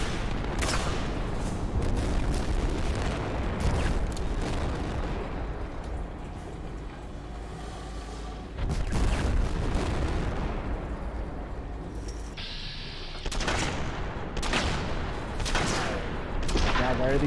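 Rapid gunfire and heavy explosive blasts in the video game Fallout: New Vegas, loud and dense bursts of repeated shots with a brief lull midway, then more volleys.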